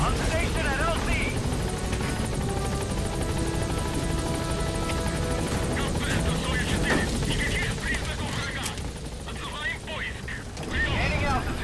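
A B-Quad support helicopter in Metal Gear Solid V: The Phantom Pain roars loudly as it arrives at a landing zone, its dense rotor and engine drone filling the scene while radio voices talk over it.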